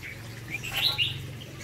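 A pair of spotted doves sits in a cage. Soft bird chirps and tweets rise over a low background hum, with a brighter cluster of calls in the middle and no voices.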